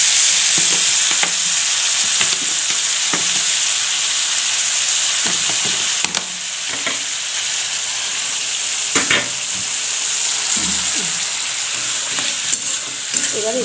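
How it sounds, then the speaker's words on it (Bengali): Spiced food being sautéed in a pan sizzles loudly and steadily throughout, with recurring scrapes and knocks of a spoon stirring, close up and with no talking. "এবার এটাকে কষিয়ে নিচ্ছি ভালো করে"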